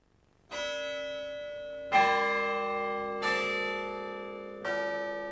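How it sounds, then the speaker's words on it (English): The Ohio State University chimes in the bell tower of Orton Hall, four rich bell strikes spaced a second or so apart, each ringing on with long, clear, overlapping sustain. "the Ohio State University chimes ring strong and true from the bell tower at Orton Hall"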